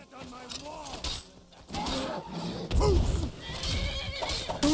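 A horse in the video game Skyrim neighs and whinnies several times in rising and falling cries, close and loud, with clip-clopping hooves beneath.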